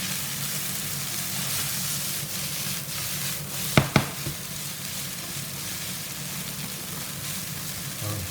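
Tomato paste sizzles and fries in a pan as red wine goes in for minced beef with corn, a steady broadband hiss with two sharp clatters near the middle, no talk.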